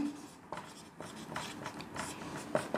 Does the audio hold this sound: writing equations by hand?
yes